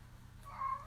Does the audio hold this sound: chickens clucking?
no